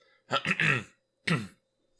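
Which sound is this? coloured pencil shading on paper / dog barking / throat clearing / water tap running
throat clearing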